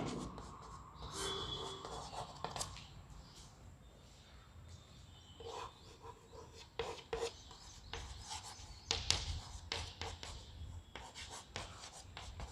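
A pen scratches across paper while a formal letter is handwritten, with quiet, irregular stroke sounds in bursts and short pauses, close and soft with no talking.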